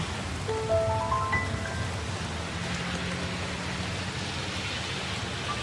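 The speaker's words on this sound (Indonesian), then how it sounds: "Cuaca selalu hujan tiba-tiba." Rain falls steadily as an even, broadband hiss that stays constant throughout, with a few faint tonal chirps early on and no voices.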